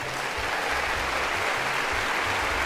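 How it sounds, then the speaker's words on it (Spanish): Dense, continuous applause from a crowd, steady and loud throughout with no pauses. "Buena, aplauso."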